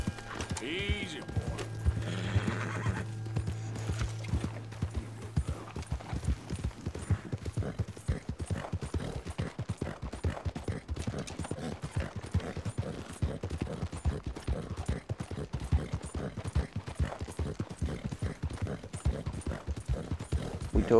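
Steady clip-clop of horse hooves plodding throughout, with a brief whinny near the start, over low game ambience in Red Dead Redemption 2.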